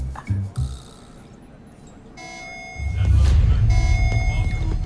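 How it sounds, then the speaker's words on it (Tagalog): A general alarm sounds in an animated robot series, a steady electronic tone with layered harmonics swelling in loudness midway, after brief knocking sounds and under a low rumbling background. "Alarm na naman. General alarm to."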